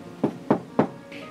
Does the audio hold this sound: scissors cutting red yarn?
no